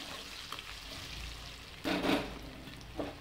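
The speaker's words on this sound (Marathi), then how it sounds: "हे आलू मी ह्यामध्ये टाकून दिले आणि आलूला जरासं तेलामध्ये परतून घेते" Diced potato sautéing in oil in a pan, with a steady low sizzle and a brief swell of stirring and frying noise midway.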